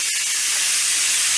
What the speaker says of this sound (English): I feel air coming out from somewhere.